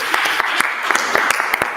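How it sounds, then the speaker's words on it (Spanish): Applause with scattered sharp claps fills the short stretch, moderately loud and steady, greeting a guest introduced from Mexico during a conservative Catholic broadcast. "Aplausos para Raúl Tortolero desde México"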